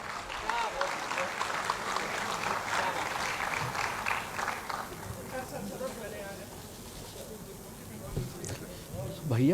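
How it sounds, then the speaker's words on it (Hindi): Audience applause fills a mushaira poetry gathering in Lucknow, a steady crowd clapping sustained throughout at close range, with a voice speaking over it. "भरपूर तालियों में इस्तकबाल कीजिए शकील जमाली साहब का।"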